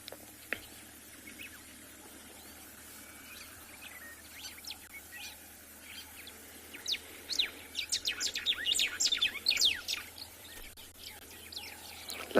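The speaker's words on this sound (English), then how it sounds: "The very sharp calls here. On the right, that's the white-browed sparrow weaver." White-browed sparrow weavers call on a morning safari in South Africa, a flurry of very sharp high chirps that builds from sparse notes into dense chattering over quiet outdoor ambience.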